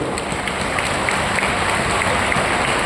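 Dense applause from an audience fills the space, a steady wash of many hands clapping at once without a break.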